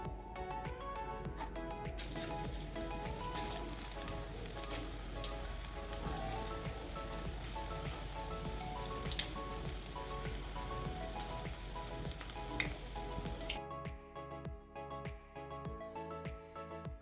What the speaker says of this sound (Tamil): இப்போ நம்ம எண்ணெயை சூடு பண்ணி இதை வறுத்தரலாம்.